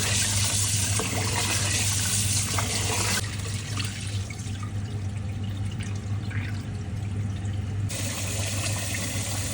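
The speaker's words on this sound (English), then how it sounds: "rice for the stew peas. To wash it to get the starch off. We're going to wash it about 3 times" Rice for Jamaican stew peas is rinsed in water to remove starch, producing steady close running and sloshing water with a continuous low hum throughout and no talk.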